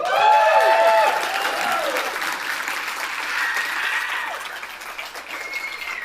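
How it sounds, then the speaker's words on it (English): Loud conference audience applause at Anarchapulco 2020, steady dense clapping with a few whoops and a sung musical phrase fading out near the start. "First of all, huge round of applause for Benny Wills and all of the speakers here"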